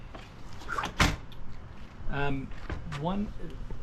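A Baja camper trailer door pops shut with one hard, sharp knock near the start, followed by a person talking close by.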